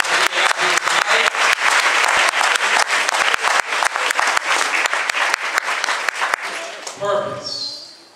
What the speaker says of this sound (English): Give yourselves again a round of applause for being out here tonight